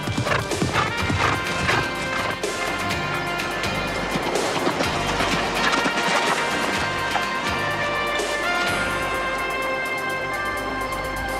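Horse hooves clip-clop steadily at close range in a busy scene, with a horse neighing now and then through a dense, continuous layer of other noise.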